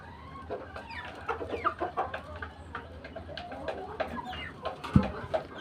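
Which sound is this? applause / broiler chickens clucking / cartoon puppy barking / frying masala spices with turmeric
broiler chickens clucking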